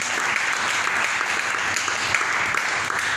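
A church congregation claps together in dense, sustained applause during a sermon, a steady wash of many hands at fairly even loudness with no distinct speech on top.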